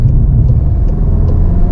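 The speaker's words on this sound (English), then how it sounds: "The road noise is quite predominant due to the low profile tires." Road noise inside a VW Golf GTI Mk7.5 on low profile tires, a loud steady low rumble with a faint whir, continuous throughout and without talk.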